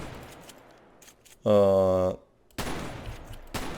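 A shotgun blast in the SA-MP multiplayer game, a single loud, tonal burst lasting about half a second, set between stretches of quieter noisy background sound.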